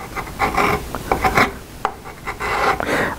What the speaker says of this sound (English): when I switch to that half round side of the rasp, you get a lot more cutting action